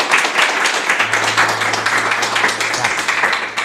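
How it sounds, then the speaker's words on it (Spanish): A church congregation gives loud, sustained applause, a dense continuous wash of many hands clapping together for several seconds, close and full. "¿Cuántos pueden darle un fuerte aplauso a Dios?"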